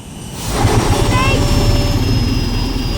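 A damaged plane droning on a single engine in Metal Gear Solid 3, a steady loud roar with a thin high whine running throughout, layered with game music and effects.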